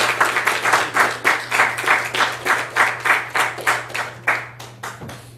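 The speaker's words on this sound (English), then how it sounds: "Clap your hands for Jesus." A church congregation claps in a steady rhythm, about twenty-two loud, even hand claps over a low sustained hum.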